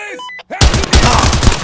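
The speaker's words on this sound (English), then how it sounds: "Where am I getting shot from?" A burst of rapid gunfire breaks out in the tactical shooter Zero Hour after a few brief electronic tones, loud and close, with dense repeated shots continuing to the end.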